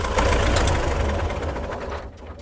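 Tractor engine running steadily at close range, a loud, continuous low rumble with a rough, knocking idle that eases slightly toward the end, with no talking.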